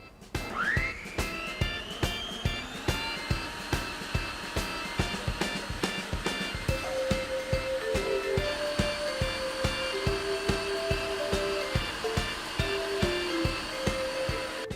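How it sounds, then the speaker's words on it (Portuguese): An electric mixer beats eggs and sugar for cake batter, a steady high-pitched motor whine with a regular rhythmic knocking of the beaters against the bowl, close and continuous. "Liga a batedeira e deixa lá uns 5 minutinhos"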